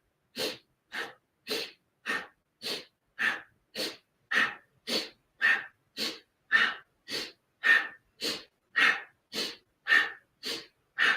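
Rapid, forceful breathing in a chair yoga heart pranayama exercise, a steady rhythm of about twenty sharp, evenly spaced inhale and exhale bursts, close and fairly loud, with no talking.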